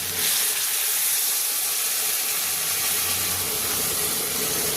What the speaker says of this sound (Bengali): এবারে দিয়ে দিচ্ছি এর মধ্যে পরিমাণ মতো জল।